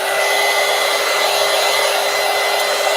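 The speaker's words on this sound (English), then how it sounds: "let's go ahead and look at my heat gun here. Let's dry this real quick" A heat gun blows hot air over wet paint, a loud steady roaring hiss held close with no change in pitch and no talking.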